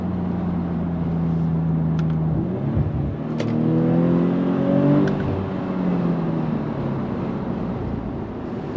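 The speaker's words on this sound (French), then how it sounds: "Également une nouvelle fois ce pop and bang lorsqu'on va venir relâcher l'accélérateur." Engine of a tuned Audi RS4 ABT with over 530 hp on a road drive, its steady loud drone shifting pitch as the car downshifts, with a few faint sharp crackles from the exhaust.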